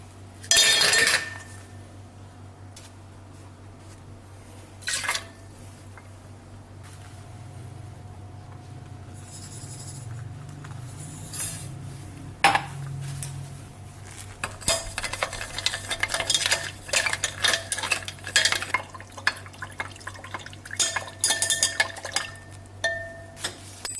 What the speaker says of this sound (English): Stir quickly because you don't want the sodium hydroxide clumping together into a big lump